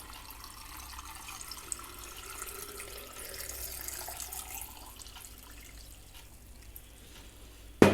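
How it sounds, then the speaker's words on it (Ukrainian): Cold water pours steadily from a tap into a jar of cucumbers being brined with garlic and mustard, a soft continuous splashing and trickle, fairly quiet, ending with a brief knock. "Все заливаємо холодною водою, з колодязя, з-під крана, в кого яка є вода."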